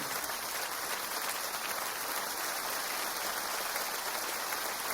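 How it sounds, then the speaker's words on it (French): An audience at a Patrick Sébastien show applauds Gad Elmaleh, a dense, even wash of clapping that sounds almost like rain, steady and distant for the full five seconds. "Et le temps que vous fassiez des applaudissements très forts pour Gad Elmaleh"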